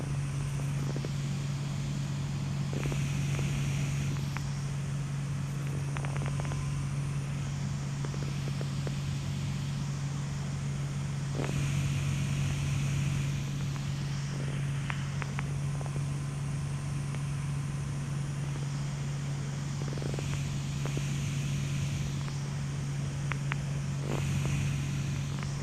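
Small RV light airplane in flight, a steady droning engine hum with a strong low tone and constant cabin noise, continuous and even throughout.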